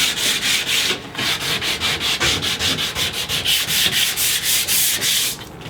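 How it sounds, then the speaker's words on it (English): Sandpaper is worked over a wood cabinet to cut into the existing finish, giving brisk back-and-forth scratchy strokes in a fast regular rhythm. The sound is close and fairly loud, with no talking. "This is gonna get sanded right in here, and we're also kind of cutting into that existing finish."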